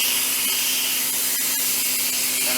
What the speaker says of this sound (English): this drain also allows air to come in to relieve the vacuum in the machine